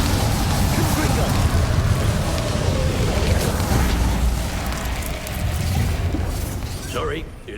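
Explosive Confringo blasting spell impacts in Hogwarts Legacy boom and crackle under continuous battle noise, with people speaking over the dense, loud rumble.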